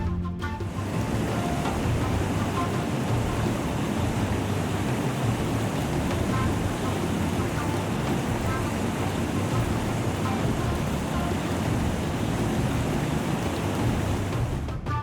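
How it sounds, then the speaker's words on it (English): A 100-meter waterfall in Uganda roars continuously, a dense, loud, unbroken rush of water plunging over a massive cliff face that stays constant throughout. "Water plunges 100 meters over a massive cliff face, creating a thunderous roar that echoes through the valley"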